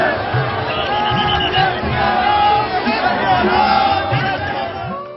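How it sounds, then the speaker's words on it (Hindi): A large crowd of devotees gathers at the Raghunath procession in Kullu during the Basant Panchami festivities, filling the air with a dense, continuous roar of voices, shouts and cheers that stays loud throughout. "अपने आराध्य की झलक पाने के लिए श्रद्धालुओं की भारी भीड़ उमड़ी।"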